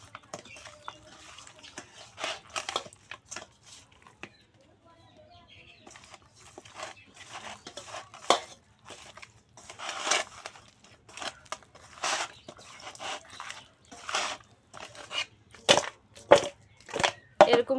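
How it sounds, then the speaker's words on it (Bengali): Silver carp pieces rubbed by hand with turmeric powder and salt, a close, irregular run of wet squelching and crinkly scraping strokes that grows busier and louder toward the end, with no talk. "সুন্দর করে মাছগুলো মেখে নেব।"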